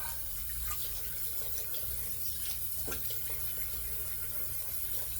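Tap water runs steadily into a sink while rinsing off after a shave with an aluminum safety razor, a constant close splashing rush with a few brief clinks.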